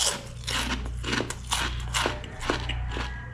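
Crunching bites into garlic-flavored dried fish chips from the Philippines, with sharp crisp cracks recurring roughly every half second, close to the mic and alone over a steady low hum.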